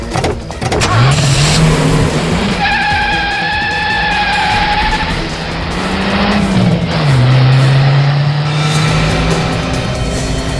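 A car engine revs and pulls away, a rising and falling motor whine with gear-change dips, loud and close, carrying through the whole stretch with a musical tone layered above.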